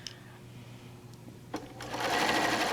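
A sewing machine starts up and runs a quarter-inch seam through pieced quilt fabric, a few faint clicks first, then a steady close mechanical whir that holds to the end.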